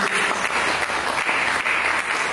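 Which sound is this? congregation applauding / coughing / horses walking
congregation applauding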